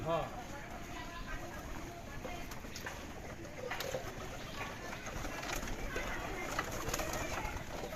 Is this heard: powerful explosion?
no